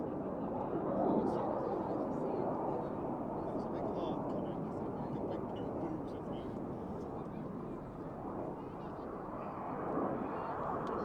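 A Red Arrows display jet approaching at Yeovilton Air Day, a steady broad roar of jet engine noise that swells slightly, with a commentator talking over it.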